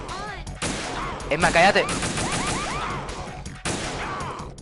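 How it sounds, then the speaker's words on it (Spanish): Gunfire in the video game Metal Gear Solid 2: Sons of Liberty, a rapid burst of several shots with whooshing effects under a loud game soundtrack, while a person speaks briefly. "le pega como 5 o 6 tiros a la niña"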